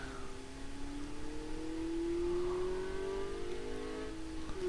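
A van accelerating on a test track in Car Mechanic Simulator 2014, its engine tone climbing steadily in pitch as it gathers speed, fairly quiet and steady with no talking over it.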